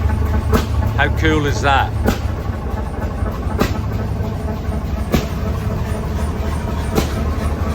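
Old stationary engine running at a show, with a low steady drone and a regular heavy thump roughly every second and a half; someone speaks over it briefly, near the start.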